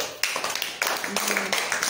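Children in a classroom clap together in sharp, repeated bursts of several hands, fairly close, with a voice talking briefly partway through.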